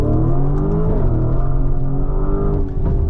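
A 2025 Lamborghini Urus SE, a high-performance SUV, pulling away under power, its engine droning loud and close from the cabin as the rising tone climbs steadily without pause.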